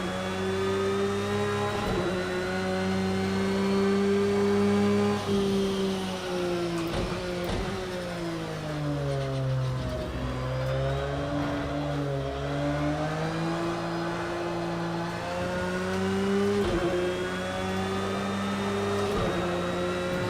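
A race car engine howls through a lap in Project Cars 2 on hard-compound tyres, its pitch rising and falling steadily with gear changes and corners, loud and continuous with no voices.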